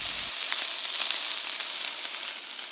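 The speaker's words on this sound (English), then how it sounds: "Meatballs, fry them up." Meatballs frying in a pan at a campsite in the Waitākere Ranges, giving a steady, dense close-up sizzle that holds evenly throughout with small crackling pops and no talking.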